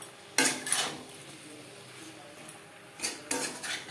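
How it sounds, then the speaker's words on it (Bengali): Eggplant and potatoes with spices stirred in a pan over medium heat, heard as two bursts of metallic spoon-on-pan scraping and clattering separated by a quiet pause with a faint background hiss. "আলু ও মশলার সাথে বেগুন আরও 3-4 মিনিট নাড়াচাড়া করে নেব।"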